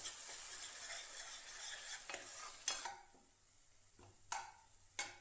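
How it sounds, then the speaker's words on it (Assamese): Two eggs fry with onion and tomato in a pan, a soft sizzle under a few sharp scraping stirs and spoon taps against the pan, quiet and close. "তাৰপিছত কণী 2টা মই লৰাই লৰাই ভাজি থাকিলোঁ।"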